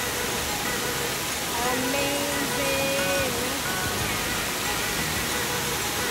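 Mackenzie Falls in Grampians National Park roars as a steady, dense wash of falling water, loud and continuous throughout, with a voice speaking briefly over it.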